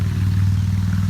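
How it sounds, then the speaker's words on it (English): Traffic on a nearby highway beside a home garden makes a constant low engine drone and hum, steady and fairly loud throughout, with no one talking. "Right here, sorry about the noise. I live on a highway,"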